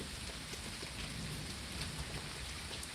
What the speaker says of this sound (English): I'll take the rain any day of the fucking week.